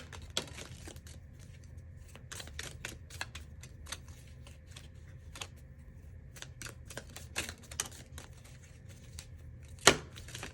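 Tea leaf fortune cards being handled and shuffled, a quick run of sharp papery flicks and riffles in uneven bursts with a louder snap near the end, close and fairly quiet with no talking.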